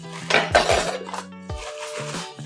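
New kitchen cookware is unpacked from its plastic wrapping: close metallic clinks and clatter ring out in a short burst, then lighter knocks and rattles follow.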